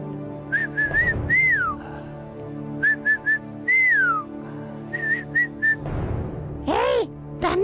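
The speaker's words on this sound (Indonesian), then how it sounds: "Jangan lupa, bersiul 3 kali." A person whistles in short repeated bursts and rising-falling calls to summon a parrot, several groups of clear notes over a faint background, with a few voiced sounds mixed in.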